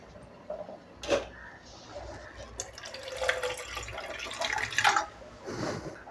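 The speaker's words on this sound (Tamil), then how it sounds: "இன்னும் கூட தண்ணி தேவைன்னா நீங்கள் தண்ணியை ஊற்றிக்கிட்டு" Water poured into a pot of Kongu-style pachai puli rasam, a raw tamarind soup, giving soft splashing and trickling bursts at close range with no talk.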